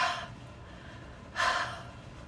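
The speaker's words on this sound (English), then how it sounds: "You're going to take this and you're going to breathe on it to kind of re-moisten it with your breath." Two breathy huffs onto a rubber stamp to re-moisten the ink, each a soft, close exhale, separated by about a second of quiet.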